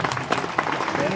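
Brief burst of audience clapping at a Hindu religious discourse, a Shrimad Gau Bhagwat katha, loud and crowded, mixed with a speaking voice over the applause.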